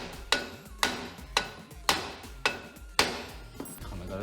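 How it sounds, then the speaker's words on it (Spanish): A hammer strikes while screws are being fitted in a camper van: seven sharp, evenly spaced blows about half a second apart, each ringing briefly, loud and close. "se aprietan bien, se da un par de vueltas y otros martillazos"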